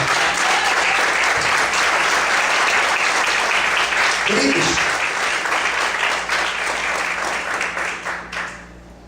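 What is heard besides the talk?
congregation applause for the Lord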